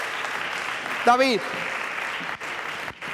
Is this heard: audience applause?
yes